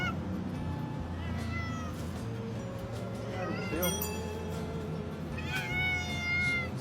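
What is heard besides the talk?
cat meowing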